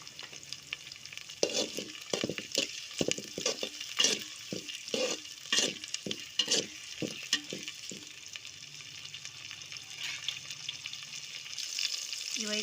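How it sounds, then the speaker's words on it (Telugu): Tomatoes stirred into a frying stuffed brinjal curry: a run of scraping stir strokes over steady oil sizzle for the first eight seconds, then the sizzle and frying hiss carry on alone, fairly quiet and close. "టమోటాలు ఇందులో వేసుకున్నాక బాగా కలుపుకోవాలి."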